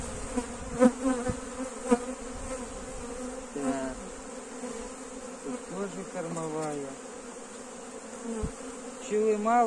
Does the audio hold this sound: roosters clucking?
no